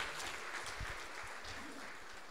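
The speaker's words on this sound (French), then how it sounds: "On peut les applaudir à nouveau" A church congregation applauds during a Sunday service, a faint, steady patter of clapping with a few closer individual claps.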